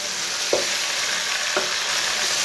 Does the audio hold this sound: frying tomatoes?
yes